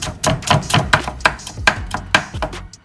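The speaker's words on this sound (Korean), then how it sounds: "양파와 당근도 채 썰어줍니다" Knife julienning onion and carrot on a cutting board, a quick run of about a dozen crisp, evenly spaced chops close up, each a sharp thud with brief gaps between.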